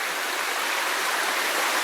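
Creek water rushing past sheet metal and debris near a Sierra gold mine, a constant close hiss of flowing water, steady and alone without speech.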